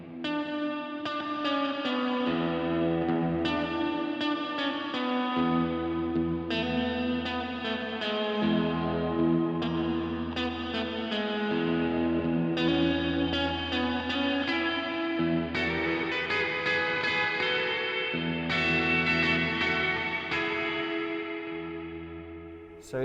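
Notes played through a Chase Bliss CXM 1978 reverb pedal with pre-delay turned up and time turned down, each attack clear before a washy, shimmering reverb tail; steady, full-level playing throughout with no talking.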